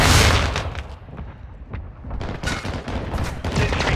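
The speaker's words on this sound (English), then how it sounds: "Friendly mortar strike inbound." Mortar strike and gunfire in the Call of Duty Modern Warfare 2 video game, a dense run of loud close bursts and booming impacts filling the whole moment with no talking.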